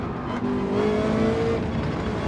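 A mid-engine Ferrari or Porsche cup race car in a racing game drones at steady close range, its engine note sustained and slightly rising with a faint whir, with no voices.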